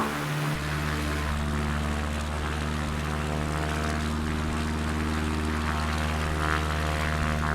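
A steady, droning airplane propeller engine from Microsoft Flight Simulator while the aircraft taxis. A continuous harmonic hum holds at an even level throughout, with no talking.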